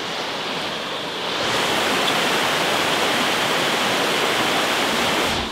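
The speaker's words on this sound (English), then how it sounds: "Sounds like there's some kind of waterfall out here." Water pours steadily over a river weir beside an abandoned factory, a dense continuous rushing roar that swells louder after the first second and holds without a break.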